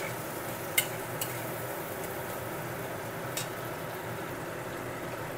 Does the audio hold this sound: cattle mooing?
no